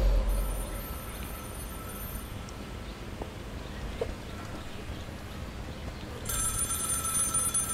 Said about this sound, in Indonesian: Oke, ada telepon.